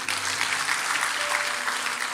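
A church congregation applauds steadily during a sermon, a dense wash of clapping that continues without pause through the whole moment.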